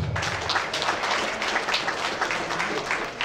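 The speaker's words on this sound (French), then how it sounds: "Sous vos applaudissements." A crowd applauds steadily, many hands clapping in a dense, even patter that holds throughout at a fairly loud level.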